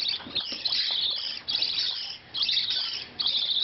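Parrotlet and budgie chicks chirp in dense, high, continuous bursts during handfeeding, close and fairly loud, with brief dips between runs of calls.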